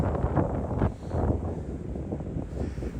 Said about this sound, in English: there goes that wind